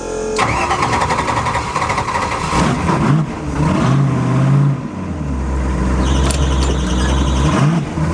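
A Mustang fitted with eight turbochargers starts up and revs hard close by, a loud roar rising and falling before settling into a deep, rough idle, with no one speaking.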